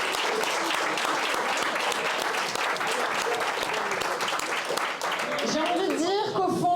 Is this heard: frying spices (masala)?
no